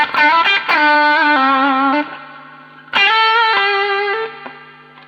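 Electric guitar played through a LEKATO B-Breaker overdrive pedal with the tone set low for a country sound, two loud strummed phrases with bent notes and sliding chord changes that ring out and decay, with no talk.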